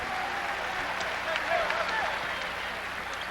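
A basketball crowd at a St. John's Red Storm at Pitt Panthers college game reacts to a drawn foul with a steady wash of cheering and applause, filling the arena evenly for a few seconds.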